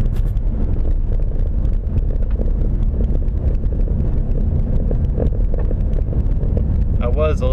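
A car drives through snow with a constant low road rumble and wind buffeting the microphone, and a voice speaks briefly near the end.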